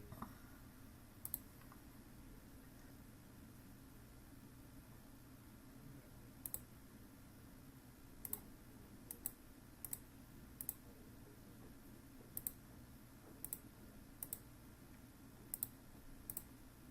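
Sparse, quiet clicks of calculator keys being pressed, in short isolated taps and small clusters spread over a steady low room hum, with no talking.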